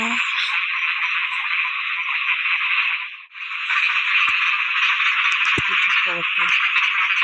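A dense chorus of frogs croaking at night after the first rain of the season, a steady high-pitched trilling mass that dips briefly midway, with some faint human sounds near the end.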